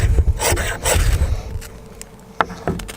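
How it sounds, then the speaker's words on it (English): A Gerber knife scraped hard along a 1/2 by 6 inch ferro rod, several rough rasping strokes in quick succession up close, followed by a couple of short sharp scrapes. "now we're gonna try the big boy, 1/2 inch by 6 inch ferro rod"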